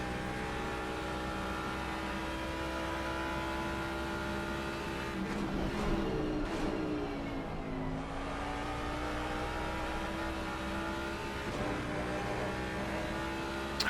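Jaguar race car engine in Assetto Corsa Competizione at Silverstone, a loud steady high-revving drone with gear changes and a brief lift-off and re-acceleration midway, heard alone without talk.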